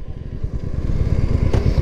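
Royal Enfield Hunter 350 and Classic 350 motorcycles drag racing, their single-cylinder engines producing a steady, loud low rumble that holds throughout without a break.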